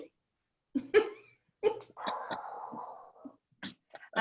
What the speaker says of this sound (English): that's my dog going